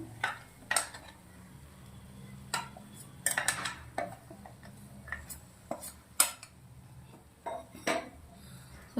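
A roasted laddu mixture is stirred into a kadai with the gas switched off, a spoon clinking and scraping against the pan in irregular knocks, close and moderately loud with no voices.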